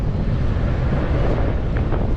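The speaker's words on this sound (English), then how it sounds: "it is crazy windy out here" Steady, heavy wind buffeting the microphone outdoors, a continuous low roar with no voices.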